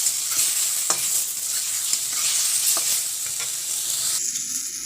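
Onion, tomato, cumin and dried chili frying and being stirred in a pan for a vegetable curry, a steady close sizzle with scraping stirs throughout and no talk.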